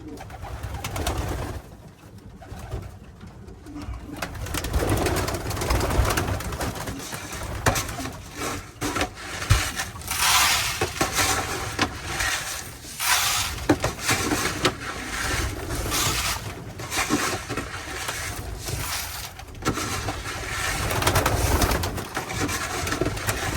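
Pet pigeons coo and murmur steadily while being fed, close and continuous, with soft rustling and shuffling among the birds throughout.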